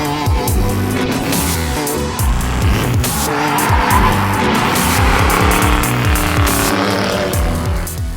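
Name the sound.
1997 Ford Mustang GT drifting with tire squeal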